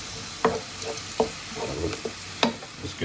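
Garlic paste fries in hot oil with a steady soft sizzle, broken by several sharp clicks of a spoon against the pan.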